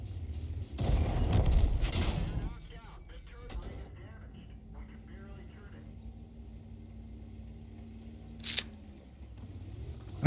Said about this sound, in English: Bloody artillery, honestly, in this game.